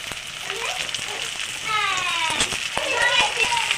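Cut cauliflower dropped into hot oil with fried onion, crackling and sizzling more strongly after a few clinks and taps, with someone talking over it.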